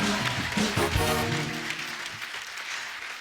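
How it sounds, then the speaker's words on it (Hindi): Studio audience on a comedy talk show applauds a guest, loud clapping at first that gradually thins and fades toward the end. "कंगना जी के लिए जोरदार ताली हो जाए।"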